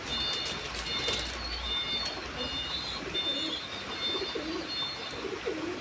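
Mundian fancy pigeons with an imported bloodline coo softly and repeatedly at a pigeon farm, with a low throaty rhythm under faint chirps and steady background hiss.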